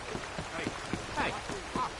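Steady rain falling in the Red Dead Redemption 2 game world, a broadband patter over the whole stretch, with a voice talking over the downpour.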